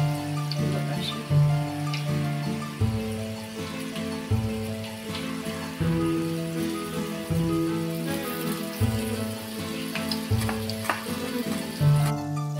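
Shingala fish fry in a covered pan over medium gas, coated and cooking until crisp, giving a steady close sizzle and crackle throughout with no talking.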